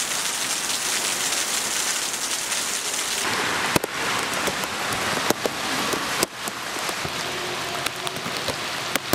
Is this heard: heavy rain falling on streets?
yes